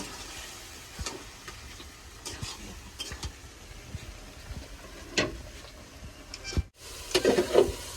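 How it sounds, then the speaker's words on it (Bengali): Meat braised with spices in a karai, a steady low sizzle under repeated scraping and stirring strokes, close by with no talking, and a few sharper clanks of the spoon near the end. "মাংসটা কষাই নেব আগে, নাহলে সিদ্ধ হবে না।"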